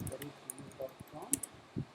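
Keys on a computer keyboard tap out a few scattered, quiet clicks at an uneven pace, with faint voice sounds mixed in.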